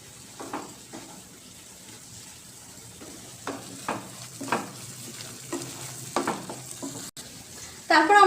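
Spatula stirring and scraping a pan of chilli-powder masala frying for mango chicken, intermittent scrapes over a low sizzle, close, with a sharper burst of sizzle at the end.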